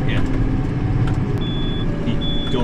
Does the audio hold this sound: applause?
no